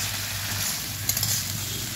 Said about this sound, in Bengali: এবার আবারও সুন্দর করে কষিয়ে নেব